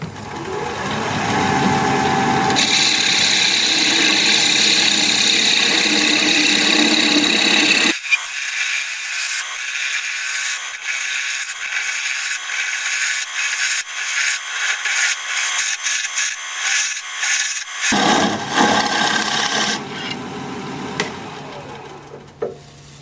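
Gouge cutting a wood bowl on a lathe: a steady loud rasping scrape, then a stretch of rhythmic bright scraping bursts as the tool engages the spinning wood, ending with continuous broad shaving noise.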